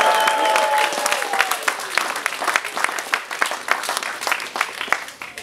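An audience at a rap battle tournament in Fremantle breaks into loud, dense applause and cheering, sustained claps with shouts and whistles rising over a crowd.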